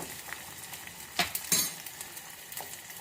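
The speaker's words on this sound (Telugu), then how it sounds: "ఇప్పుడు మనము ఆనియన్ వేద్దాము ఆనియన్ మంచిగా లైట్ బ్రౌన్ కలర్ వచ్చే వరకు మంచిగా ఇలాగా పెట్టుకుంటూ ఉందాము" Onions frying in hot oil for mango dal give a steady close sizzle, with a few sharp clinks and scrapes of a spoon stirring in the pan around the middle and near the end, and no voices.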